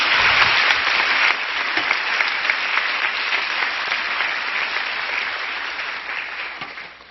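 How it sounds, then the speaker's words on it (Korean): An indoor church assembly audience claps in a dense, sustained round of applause that fades slowly toward the end. "이쯤 되시면 박수 치셔야 됩니다."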